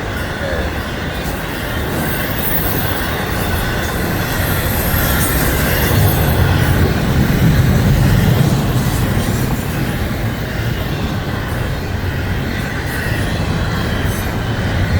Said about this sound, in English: Big long intermodal train. Another big long intermodal train.